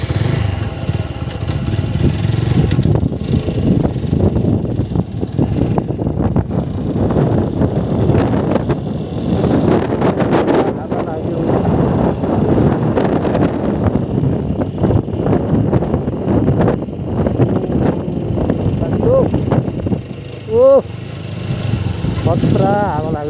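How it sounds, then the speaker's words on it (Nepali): Strong wind buffets the microphone during a motorcycle ride in Mustang, roaring loudly and continuously over the bike's engine hum, with brief voices coming through near the end. "खतरा हावा लाग्दो रहेछ यार"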